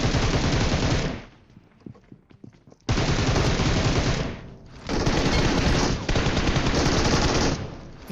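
Battle royale gunfire, loud dense bursts of rapid automatic fire in two long stretches separated by a short quieter gap with scattered shots, close and harsh, no talk.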